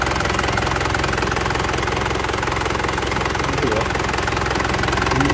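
A diesel Isuzu Panther engine keeps running after its fuel pump switch is pulled, a steady loud idle with a constant rhythmic knock and vibration filling the whole stretch, no pause or wind-down.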